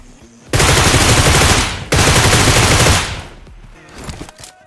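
Automatic gunfire in the mobile battle royale game BGMI, two long loud sustained bursts of rapid shots close up, the second cut off abruptly, followed by quieter scattered game sounds.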